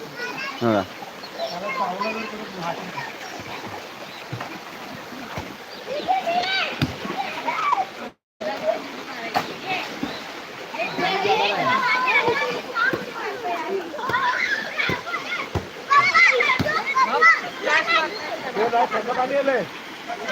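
Small children splash and play in a waist-deep river pool, with a continuous wash of splashing water and excited young voices shouting throughout, briefly cutting out midway.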